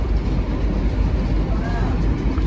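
Interior rumble of the KA Jayakarta train travelling fast on rails, pulling 13 carriages: a loud, steady low-frequency roar with faint rhythmic rail clatter, continuous throughout and heard from inside the car.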